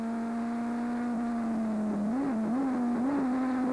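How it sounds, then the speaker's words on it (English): A Viper GT2 race car engine holds a steady, high drone during a 1998 British GT race, then wavers through several quick rises and dips in pitch, loud and sustained with no commentary over it. "Listen for that Viper engine."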